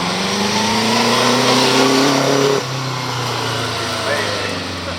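Classic Bugatti Type 35 racing car on the Prescott hill climb, its engine revving loudly nearby, rising in pitch, then dropping and settling after a gear change, with a commentator talking over it.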